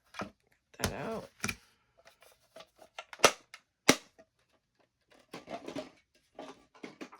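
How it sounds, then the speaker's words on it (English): A die-cutting machine feeding paper through: close bursts of ratcheting clicks and dry clacks, irregular and separated by quiet gaps. "I love die cutting."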